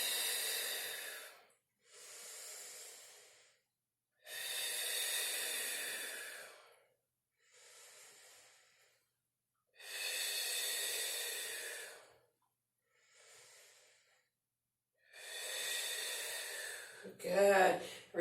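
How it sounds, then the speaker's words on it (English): Slow, full breaths during a core-strength yoga exercise, a series of long audible inhales and exhales separated by pauses, close and clear, ending with a brief sharper sound. "you're breathing here. Not a pulse, just a full breath."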